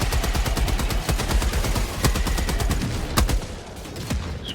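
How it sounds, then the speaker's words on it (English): Rapid bursts of video game gunfire from Helldivers 2, loud and close, with dense repeated automatic shots and a few heavier cracks, continuing without talk. "Why aren't you shooting?"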